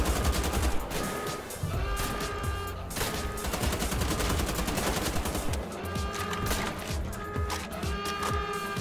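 Heavy automatic gunfire from the Wolfenstein: The Old Blood video game, dense bursts of machine-gun fire rattling continuously and loudly over a busy game soundtrack throughout.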